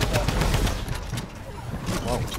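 Rapid bursts of gunfire from the video game Fortnite crackle close and loud, layered under excited talk from players.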